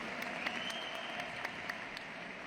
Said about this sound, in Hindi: जोरदार वाली ताली।